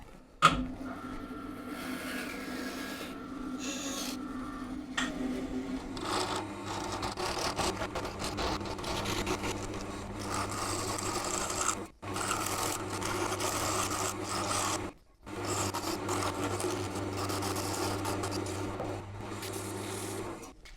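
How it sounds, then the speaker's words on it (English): A wood lathe spins while turning a wooden handle knob, a steady motor hum with scraping tool contact that pauses briefly twice before resuming, close and moderate in level. "So I'm just going to cut a little chunk out of this, take it to the lathe."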